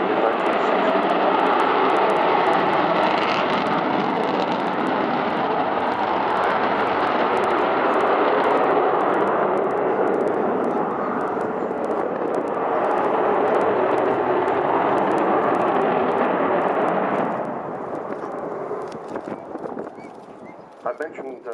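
Roaring engines of an RAF Bomber Command jet bomber flying at the Fairford air tattoo: loud sustained broadband roar that holds steady, then fades near the end, with a commentator speaking over it.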